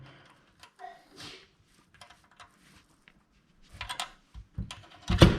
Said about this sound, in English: now just tie up these little bolts on the sides here